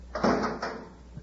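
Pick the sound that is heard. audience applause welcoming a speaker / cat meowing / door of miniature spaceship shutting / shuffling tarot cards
door of miniature spaceship shutting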